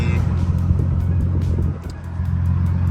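Steady low engine rumble of a Toyota Supra RZ driving, heard from inside with the AC on, with constant road noise and a brief dip midway.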